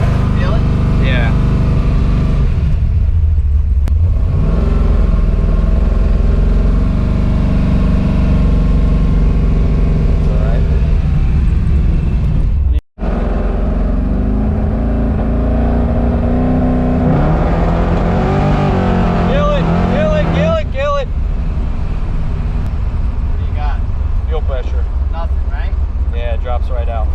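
A drag racing car's engine revs and drones on an Orlando street, the pitch rising and falling over a long stretch, with people talking loudly over it throughout.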